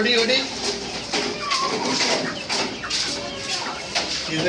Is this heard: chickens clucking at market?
yes